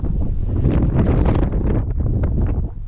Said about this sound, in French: Ça vous donne une idée de la violence du vent et surtout de la fraîcheur du vent.